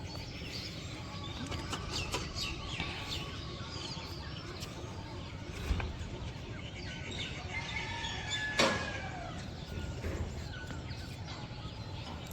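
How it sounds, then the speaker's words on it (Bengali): Birds chirp and sing from all sides around a Bangladeshi village in the morning, with varied overlapping calls and a couple of louder sharp notes above a continuous low background rumble. "চারপাশ থেকে পাখির শব্দ আসতেছে,"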